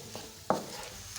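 Beef jalfrezi with tomato ketchup being stirred in a pan, a soft sizzle with one distinct scrape of a utensil against the pan midway, brief and close.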